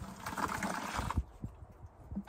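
Liquid poured into a bucket, a splashy gurgling stream that cuts off about halfway, followed by a few faint drips and knocks, heard up close with no talk.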